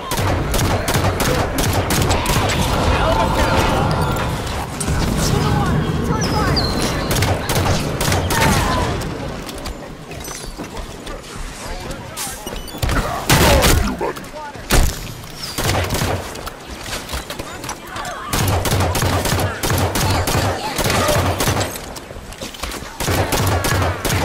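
Dense bursts of rapid automatic gunfire and explosive booms fill a Halo 5 Guardians battle, with loud, close volleys broken by brief quieter gaps and clattering impacts.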